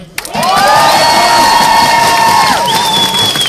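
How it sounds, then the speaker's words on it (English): A crowd cheers and shouts loudly for Roger, a longtime activist and volunteer at the Vegan Information Project, with whoops rising over a sustained roar before it fades. "make some noise for Roger"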